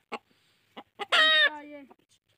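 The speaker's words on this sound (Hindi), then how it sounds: "ये बहुत अच्छा मुर्गा है।" A Mianwali rooster clucks close by in short separate calls, then gives one longer, louder drawn-out cry near the middle, all in a quiet setting.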